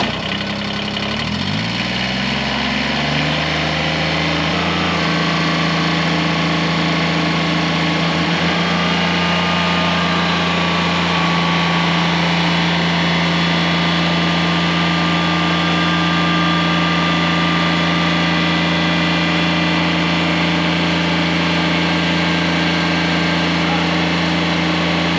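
A Kubota BX compact tractor engine labors to lift a 1400 lb log, revving up sharply at the start and then holding a loud, steady, droning hum with strong low tonal components.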